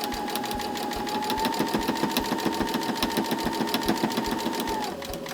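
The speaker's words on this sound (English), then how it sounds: "down at the bottom I'm going to do a couple of stitches forward and a couple stitches back to lock everything in place" A sewing machine stitches a drawstring bag, running in a fast, steady mechanical whir with rapid needle clatter and a high motor whine, then slowing to a stop near the end.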